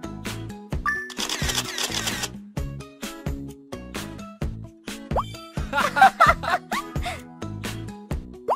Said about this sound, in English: Hey, let's take a selfie.